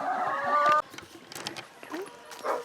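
Backyard chickens cluck in short, close bursts, with a louder call at the start, while a person talks nearby.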